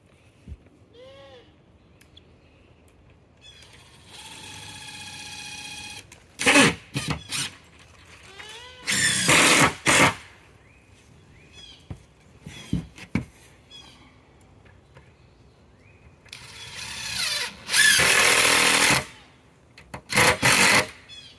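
Power tool tacking down floorboards in the corners while building an off-grid home, heard as several loud bursts of grinding and rasping between quieter pauses, with faint voices here and there.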